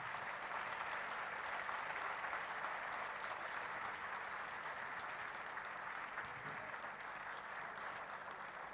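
An audience at a poetry session at the Faisalabad Literary Festival claps in sustained, dense applause that stays strong and even from start to finish, with no voices over it.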